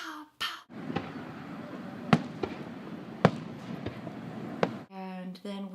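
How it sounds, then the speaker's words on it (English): Fourth of July fireworks go off outdoors: several sharp, separate bangs over a crackling background, ending as a person starts talking. "Fireworks! Pow! Pow!"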